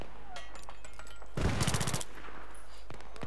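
Automatic gunfire in Battlefield 3, a burst of rapid rifle shots in the middle of the clip, loud against quieter game noise, with a few scattered clicks and impacts before and after.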